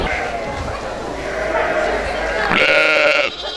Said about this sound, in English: How are the sheep reacting to being petted and looked at and groomed?